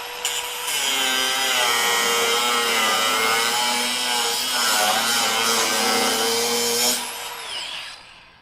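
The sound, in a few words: Metabo HPT 36V cordless grinder running at full speed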